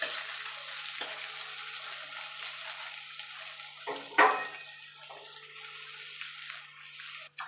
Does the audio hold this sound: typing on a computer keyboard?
no